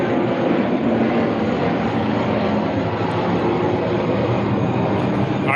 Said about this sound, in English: So hold on, it's a plane.